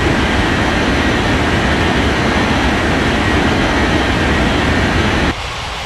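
A jet airliner roars down runway 14 right on takeoff in an air traffic control game, a loud constant broadband engine rush that holds steady and then cuts abruptly to a quieter hum.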